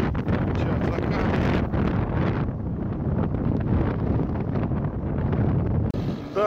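Heavy wind buffets the microphone outdoors at sunset during an off-road trip through swampland, a loud continuous low roaring rumble that fills the whole stretch, with a brief break and a faint higher sound near the end.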